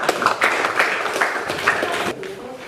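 A classroom of students claps their hands together in quick, rhythmic bursts that repeat several times at close range before trailing off.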